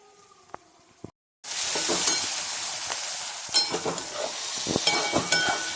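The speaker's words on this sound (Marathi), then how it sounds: "तर आपण छान असं कालवून घेऊया" A second of near silence with a couple of clicks gives way to a loud, steady sizzle as spiced onions cook in a pan for a raw jackfruit dish, with intermittent scraping and stirring bursts.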